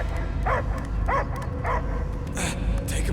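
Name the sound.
dog barking in Guardians of the Galaxy video game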